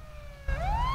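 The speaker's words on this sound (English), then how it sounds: "police brutality for the siren blaring in my ear?" Police siren blaring in a video game roleplay, a steady tone that suddenly rises into a loud upward wail partway through, close and filling the foreground with no talk.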